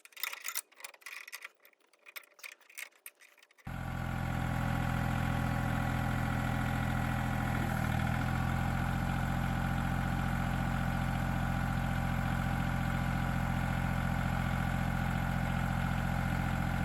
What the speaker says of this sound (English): the John Deere 855 lifts and lowers the loader, but it does not tilt the bucket up or down in any way